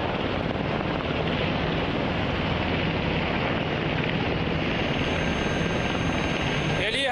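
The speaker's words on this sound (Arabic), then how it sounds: "يليها تشكيل خماسي من طائرات الأباتشي المقاتلة." A formation of five Apache attack helicopters flies over during a military air show, a loud, sustained rotor roar with steady thudding that fills the scene while a commentator speaks over it.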